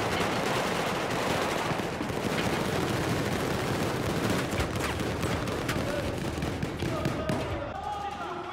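Rapid bursts of automatic gunfire from the video game Battlefield 4, loud and dense throughout, mixed with in-game explosions and effects, with people talking over the shooting.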